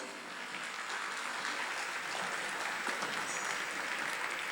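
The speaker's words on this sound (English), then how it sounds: "Please give a very big round of applause" A concert audience at the Bharat Sangeet Utsav 2025 applauds Dr. Sudha Raja's Sargam Choir. The steady wash of many hands clapping sounds rather faint and distant and runs evenly throughout, with no speech.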